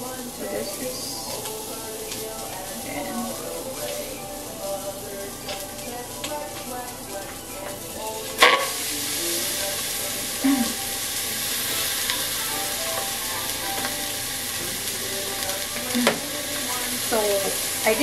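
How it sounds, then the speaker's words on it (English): Paksiw na isda cooking in a hot pot gives a steady, loud sizzle and frying hiss that fills the whole stretch, with a sharp clatter partway through and a few stirring knocks on top. "So there's a sound because my pot is a bit hot."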